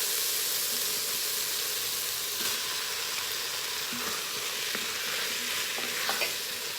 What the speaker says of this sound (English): I'm gonna put the beans in.